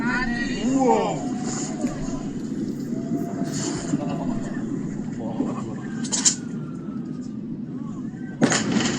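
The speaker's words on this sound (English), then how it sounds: "The explosion literally blocked out the sun for a moment." Beirut port explosion, with a deep continuous roar and rumble under people talking, punctuated by two sharp, loud blast bursts near the end.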